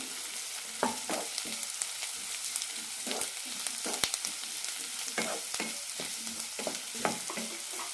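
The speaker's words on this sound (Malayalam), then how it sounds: "ഒരു മിനിറ്റ് നന്നായി വഴറ്റി കൊടുക്കണം ഇഞ്ചി വെളുത്തുള്ളി നന്നായി വെന്ത് കിട്ടണം" Chopped ginger and garlic sauté in hot oil in a pan for a tamarind curry, a soft steady sizzle broken by frequent scraping stirs of a spoon, close and fairly quiet with no talking.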